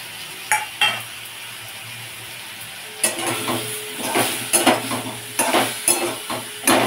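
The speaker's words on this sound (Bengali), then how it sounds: "টমেটোর সাথে গুঁড়ো মশলাগুলোকে কষিয়ে নিচ্ছি।" Tomato paste and ground turmeric, chilli and salt fry in a pan with a soft sizzle, plus clinking, scraping stirs that grow busier and louder after a quiet start.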